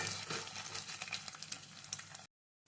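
Mustard seeds, cumin, and thin carrot and potato pieces frying in a pan, giving a steady, dense sizzle and crackle with light popping throughout before it cuts off abruptly near the end.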